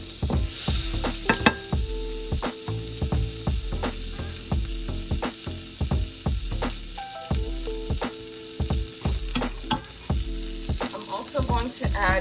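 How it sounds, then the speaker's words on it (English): Thinly diced ginger fries in a pan with a steady crackling sizzle, close and continuous, broken by repeated rhythmic scraping and stirring knocks and a few metallic clicks. "about a thumb's worth of thinly diced ginger to the pan. I'm going to cook that down a little bit."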